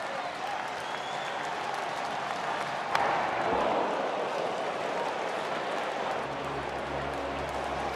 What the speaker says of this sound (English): You could hear the collective gasp from the crowd as Tucker unleashed a big swing.